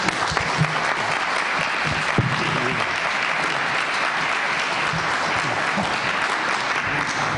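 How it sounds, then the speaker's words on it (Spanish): An audience at a history lecture series in Mexico applauds steadily to welcome a speaker, a dense, even wash of clapping sustained throughout with no talk over it. "los recibimos con un gran aplauso"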